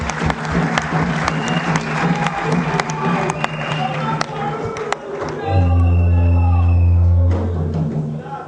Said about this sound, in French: Applaudissez-leur.